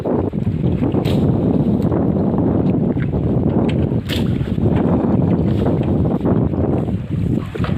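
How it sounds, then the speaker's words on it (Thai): Strong wind blowing on the Mekong river, heard from a small boat as a loud, continuous roaring rush that buffets the microphone with repeated gusts and no talk. "ลมขึ้น"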